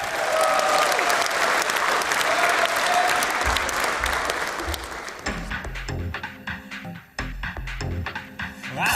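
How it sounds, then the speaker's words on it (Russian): An audience at a KVN comedy festival stage show in Bishkek breaks into loud, dense applause that fills the hall, then thins and fades as music with a steady beat comes in. "ваши аплодисменты"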